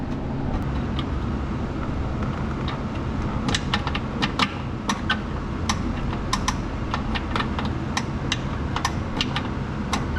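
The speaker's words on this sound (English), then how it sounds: "And you'll hear the wheel clicking against that arm." A wheel on a 1966 Pontiac Catalina convertible clicks against a metal arm as it is turned, producing sharp, irregular clicks over a steady low background rumble, with no talking.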